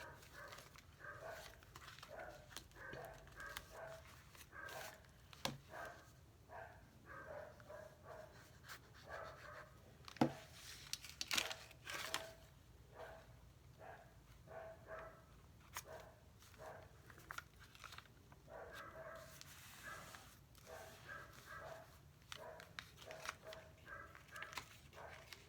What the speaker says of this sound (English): Sorry about the dogs, guys.